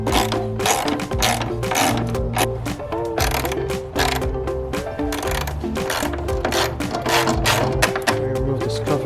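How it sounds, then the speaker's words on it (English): A 10mm deep socket on a ratchet loosens a bracket during a transmission motor mount install on a Mazdaspeed 3, with rapid, continuous ratchet clicking close up and some faint mechanical clatter. "now I'm gonna remove the bracket using a 10mm deep socket."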